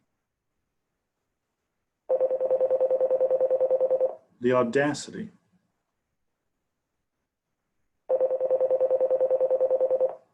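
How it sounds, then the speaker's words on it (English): A telephone rings in two pulsed bursts a few seconds apart, loud and close, with a brief spoken remark in the gap between the rings. "someone's calling my phone"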